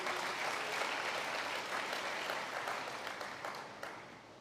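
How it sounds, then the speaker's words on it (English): Quiet, distant applause from an audience honours a Minister at a youth internship function, an even wash of clapping that slowly fades. "Give him a round of applause, please."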